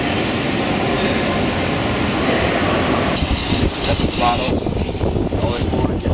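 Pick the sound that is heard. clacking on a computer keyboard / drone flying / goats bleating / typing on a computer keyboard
drone flying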